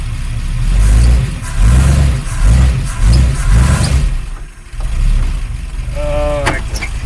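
The engine of a 1953 Oldsmobile Rocket Super 88 barn find revs repeatedly in loud, close pulses with brief dips between bursts, ending with a few short high squeaks.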